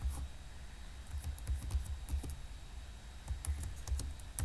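Quick, uneven keystroke clicks on a computer keyboard while a title is entered in a Microsoft Word document, close and fairly quiet, in short bursts with tiny pauses between.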